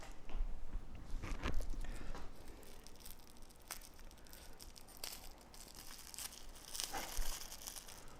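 Close crinkling and ripping of paper and tissue paper as a package is torn open, with bursts of tearing and rustling that come and go over several seconds, no voices.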